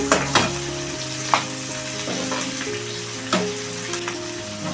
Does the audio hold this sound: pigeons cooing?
no